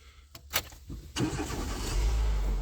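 A 1.6-litre 16-valve Renault Megane 2 started with the key: a few clicks and a brief whirring crank, then the engine catches quickly and settles into a steady idle, recorded close.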